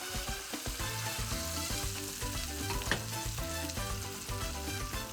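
Hot olive oil hisses and crackles loudly as it is poured into a pan of mojo sauce on the stove, a dense, continuous sizzle with no voices over it.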